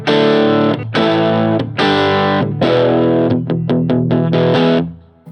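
Electric guitar played through a TC Electronic Mojo Mojo overdrive pedal with its voice switch engaged, loud sustained distorted chords with a few quick choppy strums, fuller low end, no talking.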